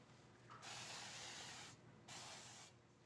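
Cooking spray misted into a cheesecake pan for a crustless Basque cheesecake: two close hissing bursts, the first about a second long and the second shorter, separated by a brief pause.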